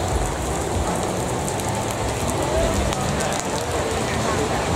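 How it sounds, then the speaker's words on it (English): Steady rain pours down on an outdoor market, a dense, even hiss of drops on surfaces filling the whole stretch, loud and close throughout. "It's always fun in the markets when it starts raining."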